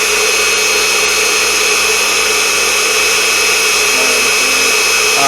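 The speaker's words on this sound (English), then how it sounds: "out of all of these speeds, this Unimat likes to run this particular tool" Unimat SL1000 hobby lathe running at about 850 RPM while cutting 7075 aluminum, a steady loud whine with broad machining noise held throughout, no voices.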